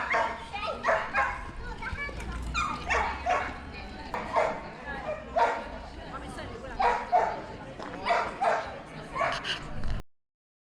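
Dogs in Nonsuch Park, Cheam, let out a string of repeated barks, yips and whimpers at fairly close range, rising and falling in short bursts over several seconds.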